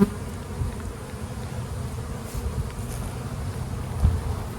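Honeybees in an open hive during hands-on beekeeping make a dense, steady low buzz close by, continuous throughout with small swells and an occasional bump of handling.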